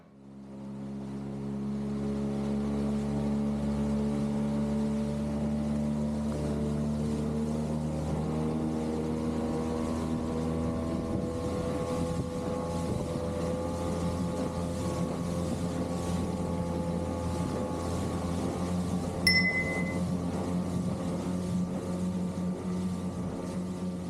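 A new GoDu aluminum dinghy's outboard motor runs flat out at top speed, a loud, steady drone with layered engine harmonics that holds unbroken throughout, with no voices.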